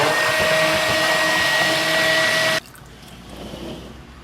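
A light commercial power wand stick blender runs loudly while mixing soap, a steady motor whine that cuts off abruptly, leaving quiet room sound afterward.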